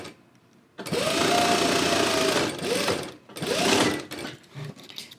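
A sewing machine stitches a seam with backstitching, running in loud, close bursts: one long run, then a short stop and a brief reverse, then another burst, with no speech.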